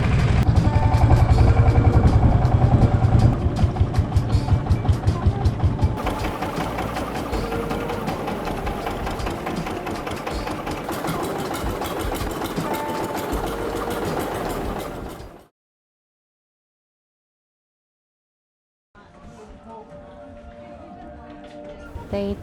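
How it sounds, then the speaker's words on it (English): A motorboat engine on Inle Lake, Myanmar, chugs loudly and steadily with a rapid knocking rhythm for about fifteen seconds, cuts to silence, then returns more faintly with a softer engine drone. "Nowadays, many of the traditional boats have been replaced with noisy motorboats."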